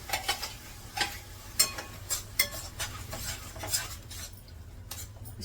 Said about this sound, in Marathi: सगळीकडून अशी व्यवस्थित मिक्स करून घ्यायची ही भाजी